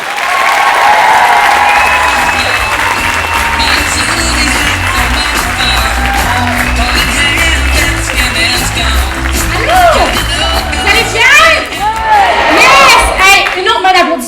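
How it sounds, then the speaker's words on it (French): A loud, full crowd at a live comedy show claps and cheers as a comedian is welcomed on stage, the applause dense and sustained while music plays beneath and shouts and whoops break through near the end. "Une autre main d'applaudissement pour les jeunes en coulisses,"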